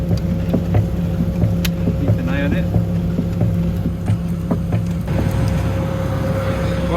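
Doosan DX140LC-7K excavator running its track round in the woods, a steady loud engine drone with clanking and rattling throughout, a voice briefly speaking over it.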